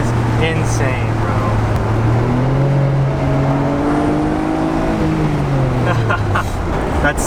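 Stock Nissan R32 Skyline GT-R engine revving loud and close, its pitch climbing and falling in a long smooth sweep, with voices over it.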